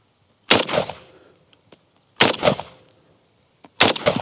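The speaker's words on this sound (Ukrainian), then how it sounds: "одразу здійсню три постріли Зімітую щільний контакт по свіжій деревині" Three loud AK-47 shots in 7.62x39 fired outdoors at a fresh wooden beam, spaced well apart, each a sharp crack followed by a short echoing tail and then quiet.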